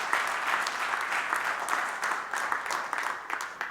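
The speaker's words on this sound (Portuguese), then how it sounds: "Se vocês baterem muitas palmas," An audience at a political address in the Azores bursts into dense, sustained applause, many hands clapping together in a steady roar that stays loud throughout.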